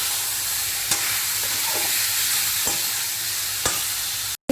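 Chicken with cumin and coriander powder fries in a pan on low flame. A constant close sizzle is punctuated by a few sharp spatula scrapes as the mixture is stirred, and no one speaks.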